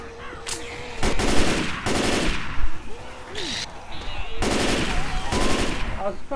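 Rapid automatic gunfire bursts from the zombie shooter game Left 4 Dead 2, loud, close and repeated in stuttering volleys, mixed with game effects and a voice talking briefly.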